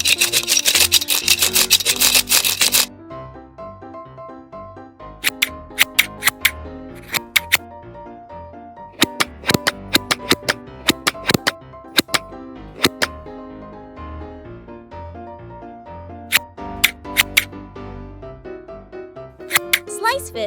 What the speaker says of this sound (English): Scale fish with miniature scissors.